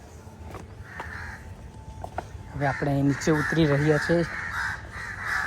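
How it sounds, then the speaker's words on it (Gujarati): Crows cawing near Chhab lake garden in Dahod, several harsh repeated caws in quick bursts, fairly close, over outdoor ambience with someone speaking briefly before them. "મસ્ત મજાના પક્ષીઓનો અવાજ આવે છે."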